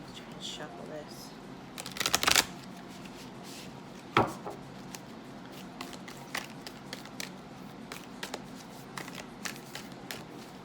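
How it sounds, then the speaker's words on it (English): A tarot card deck is shuffled in soft, close riffles and flicks, with a couple of louder bursts early on and scattered light card taps after, under quiet talking. "Let's try and shuffle this."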